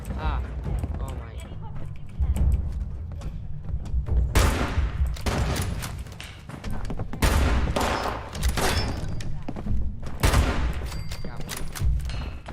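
Gunfire from the player's weapon in Fallout 76 crackles out in several loud bursts of rapid shots spaced a few seconds apart, over a steady low rumble with a voice talking throughout.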